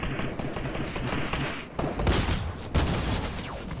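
Video game gunfire, a rapid burst of shots and thuds in quick succession, fairly faint and dense, with no speech.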